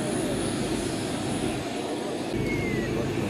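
Large radio-controlled model Airbus A380-800 weighing about 70.8 kilograms, flying at an outdoor RC airshow, gives a steady, loud broadband jet-like engine roar that holds throughout, with a high whine line and a brief rising tone near the end.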